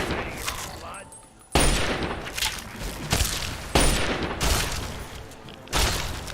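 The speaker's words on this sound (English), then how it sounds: "What is my gun? Oh yeah, Lincoln's repeater?" Lincoln's Repeater fires in Fallout 3, several sharp, loud gunshot bursts spaced about a second apart, each ending in a short decaying tail, over game background noise.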